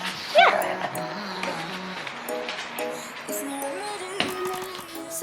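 A pet dog whimpers and yips in short, high, wavering cries, close by and moderately loud, against a quiet indoor background.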